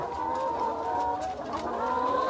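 Layer hens on a poultry farm of about 1,500 birds cluck and call continuously, a dense chorus of overlapping clucks close by with no speech.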